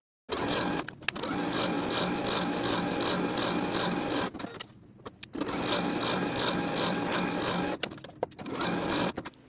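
A sewing machine runs stitches along the edge of a fabric belt, a loud, fast mechanical whirring in two long runs separated by a short pause, with brief stops near the start and end.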